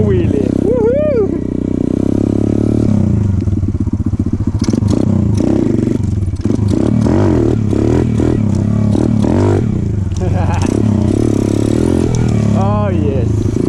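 A pit bike engine runs loudly and continuously close by, with revving surges, rattling clatter and occasional thumps from riding, while a voice talks and whoops over it.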